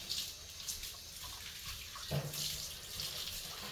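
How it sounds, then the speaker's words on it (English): Tap water runs into a laundry sink as a foam air filter from a DRZ400 motorcycle is washed, a soft, close, steady splash with a brief slosh partway through. "So pour it into the laundry, give it a clean, wash all the residue out."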